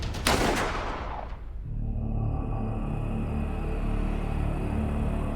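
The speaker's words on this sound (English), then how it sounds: "The echo of the gunshot fades" A single loud gunshot cracks out, then its echo rings and decays into a lingering, reverberant hum.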